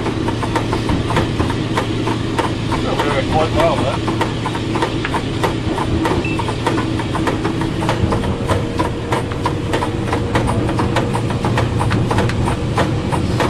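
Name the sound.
D1062 diesel locomotive engine revving in notch one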